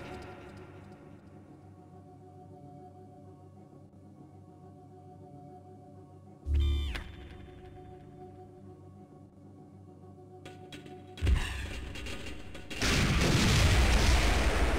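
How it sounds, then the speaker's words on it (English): Cluster bomb blasts in the shooter game Gunman Chronicles: a sharp boom around the middle, then a burst of rapid detonations building into a loud, sustained roar of crackling explosions at the end over a low ambient hum. "set the payload to cluster bomb and throw it at the next hologram target"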